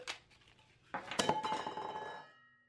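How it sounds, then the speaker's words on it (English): Sublimation tumblers handled for cleaning with their lids off, a few light taps then a cluster of clinking metallic knocks with a brief ringing tone that fades out, close by, no talking. "I decided to go ahead and clean my tumblers now that I have the lids off."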